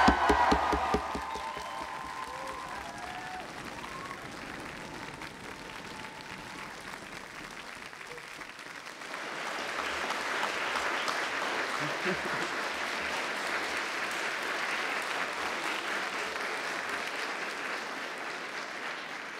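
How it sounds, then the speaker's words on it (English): At a University of Aberdeen graduation ceremony, graduands stand and cheer and applaud; after a quieter stretch with a voice and room noise, a sustained roar of crowd clapping and cheering swells and carries on steadily to the end. "I want you to make as much noise as you can by cheering and applauding"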